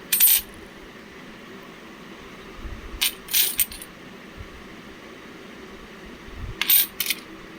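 Coins clink and drop in three short metallic bursts spaced a few seconds apart, close and fairly loud against a quiet room with faint low hum.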